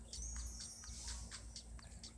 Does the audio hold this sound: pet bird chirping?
yes